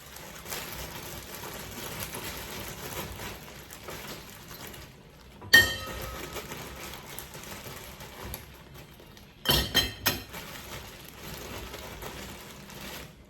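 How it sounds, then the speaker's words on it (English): Ice rattles into a Yeti tumbler on a beach outing, heard as a sudden clatter, then a cluster of quick, sharp clinks a few seconds later over quiet outdoor background noise. "I'm going to load my Yeti up with some ice"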